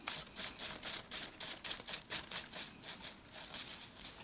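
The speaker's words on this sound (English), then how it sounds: "I need my toothbrush to get rid of a bit of algae there too." A toothbrush scrubs algae off the base of an orange bonsai in quick, regular close strokes, a rhythmic brisk scratching about four per second with no talk.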